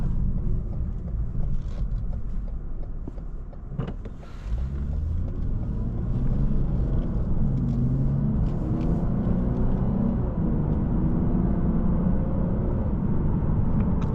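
Engine of a 2022 Lexus RC 350 coupe on a test drive, a steady low cabin rumble with road noise that swells slightly after a brief dip, continuous and fairly loud with no talking.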